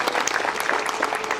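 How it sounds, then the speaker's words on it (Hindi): An audience at an award ceremony gives a burst of steady, dense applause for an honoree, continuous clapping from a crowd with no voices on top. "एक बार जोरदार तालियां इनके लिए"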